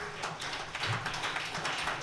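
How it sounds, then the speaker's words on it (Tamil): A church congregation claps their hands enthusiastically at a Tamil worship service, making a steady, dense patter of many hands that fills the room at moderate loudness. "உற்சாகமாக கையை தட்டுங்க"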